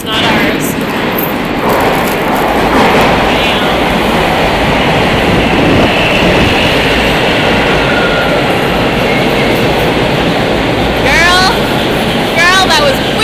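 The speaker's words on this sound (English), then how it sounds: "Here comes a train." Toronto subway train arriving at a station platform, a loud steady rumble of rolling cars with brief wheel squeals near the end, with people talking over it.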